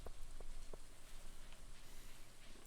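Rain falls in the farming video game Stardew Valley, a soft, steady patter with a few faint clicking drops, quiet and continuous throughout.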